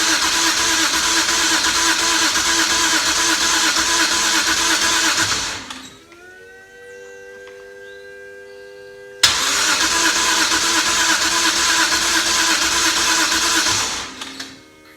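A BMW N54 engine swap cranking without catching: two long, loud cranking bursts of about six seconds each, separated by a quieter pause with a steady whine, close and alone without talk.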